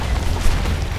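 A rocket launcher blast in the game Identity V: one short, loud, broadband boom with a burst near its middle, heard alone.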